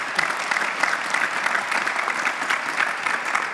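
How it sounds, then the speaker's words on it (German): Steady, dense applause from an evening audience at a panel discussion, even and sustained throughout without a break. "geben wir den größten Applaus heute Abend mal"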